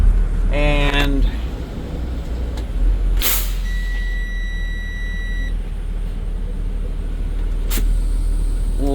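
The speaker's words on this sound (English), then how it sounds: "we're gonna pull the parking brake while driving again" A 2020 Freightliner M2 truck on the move gives a sharp air brake hiss near the start, with further brief bursts of released air over a steady engine and road rumble.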